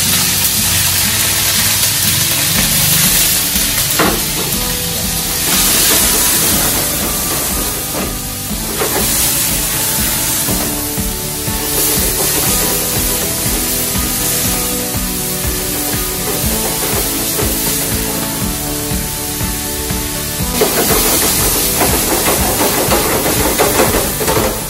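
Bacon sizzling in olive oil in a pan, a steady, loud, dense hiss and crackle that continues without a break for the whole stretch, with no talk.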